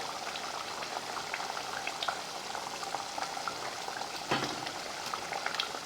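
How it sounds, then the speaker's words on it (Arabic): Beef stirred into a thickened, simmering tomato sauce for a Egyptian bully beef and egg dish, bubbling and sizzling steadily with soft pops throughout, close and moderately loud with no talking. "هنبدأ ننزل بالبلوبيف مع بعض."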